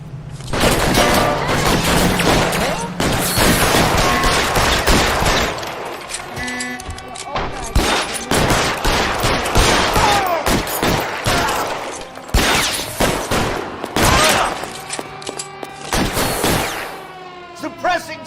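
Gunfire in a shootout from L.A. Noire, dense volleys of sharp, loud shots in rapid irregular bursts, some machine-gun-like, with booms, a car and shouted voices mixed in throughout.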